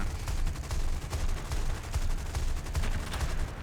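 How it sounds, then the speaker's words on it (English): An aircraft cannon in the War Thunder video game fires in rapid, continuous bursts, producing a dense rattling stream of shots that stays fairly quiet and sits in the background without speech. "I swear your cannon like hits nothing."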